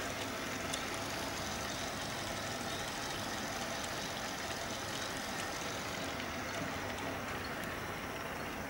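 Small Magnorail motors drive the chain on a Heljan model container terminal with a faint, continuous whirring hum that stays even throughout, without voices.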